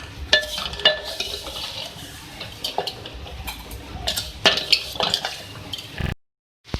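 Roasted vermicelli being scooped out of a pan with a utensil, giving irregular metallic scrapes and clatters over a low background hiss, close by with no talk.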